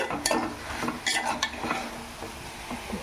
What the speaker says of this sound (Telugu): ఇంకా మనకి దొండకాయ ముక్క సూపర్గా బాగా ఫ్రై అయింది